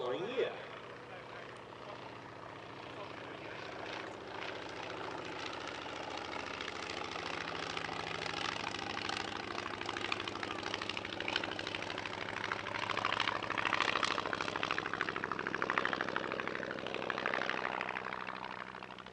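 A Polikarpov Po-2 biplane at the Shuttleworth airshow drones with a rough, steady engine note that slowly swells in the distance, while a voice talks over it throughout.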